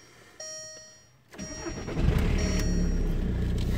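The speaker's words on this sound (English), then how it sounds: "let's start up my car" A car engine cranks and catches after a chime and a brief quiet, then settles into a steady, loud idle rumble close inside the cabin.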